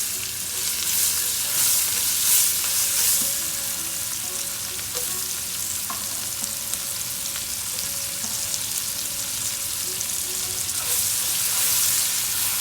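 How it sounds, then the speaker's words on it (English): Curry leaves, sliced chillies and red onions fry in hot oil with a constant, bright crackling sizzle, close and fairly loud, dotted with small pops and the occasional light stir throughout. "अब हम इसे अच्छे से फ्राई कर लेते हैं until they become little bit soft."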